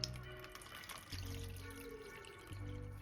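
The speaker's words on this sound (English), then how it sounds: "Add a few drops of blue food coloring into some water. Pour over those eggs" Water tinted with blue food coloring is poured over cooked eggs, a quiet continuous trickle and splash close up with soft tapping along the way, no voices.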